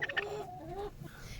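Soft, close clucking and a short drawn-out cackle from chickens, quiet and brief with faint background rustle.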